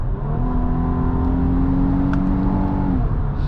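A 2025 Infiniti QX80 Autograph body-on-frame luxury SUV engine revs up steadily during a paddle-shifted gear change in sport mode, a smooth rising hum heard from inside the cabin, ending with a slight drop.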